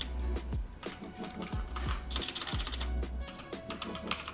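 Typing on a computer keyboard, quiet irregular clicks and taps of keys in short bursts, close and faint, with no voice.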